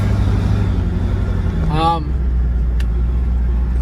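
A truck pulling away in 4-wheel drive, its steady low engine rumble running throughout with a brief rising whine partway through.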